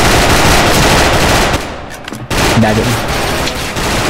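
AK74 Predator rifle gunfire in the shooting game SF rattles out as loud, dense continuous bursts that break off briefly and resume, with a voice speaking over the shots.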